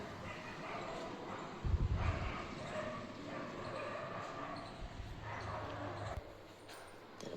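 Morning barking from neighbourhood dogs outside a home, a few yips and barks mid-distance over continuous background noise, with one louder burst near the two-second mark.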